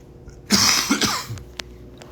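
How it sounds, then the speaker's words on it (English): A burst of harsh coughing, a few close, rough hacks followed by quieter throat-clearing sounds. "Sorry, I'm here coughing"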